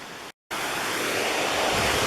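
Indian Creek Falls, a waterfall in the Deep Creek area, seen from the top of the falls, a steady broadband roar of rushing water, loud and continuous after a brief cut.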